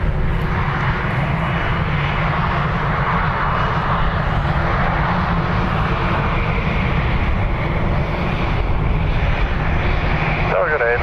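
An Icelandair airliner at Dublin Airport gives off a loud, steady engine roar that fills the whole stretch, close and unbroken, with a voice talking over it.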